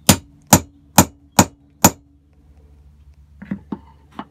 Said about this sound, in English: get the center from the lathe and a hammer, and we're just going to hammer it into the wood